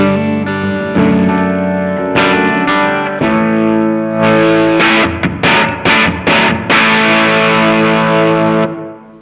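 Electric guitar played through a Decibelics Reverend XX overdrive pedal on a less noisy setting: distorted sustained chords and choppy strummed stabs, loud and close, with no talking.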